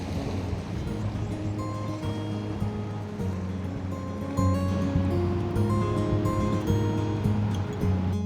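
Ocean surf washes steadily where a small stream trickles into the sea in the Otway region, a continuous rushing wash with low rumble that swells louder partway through, no talk over it.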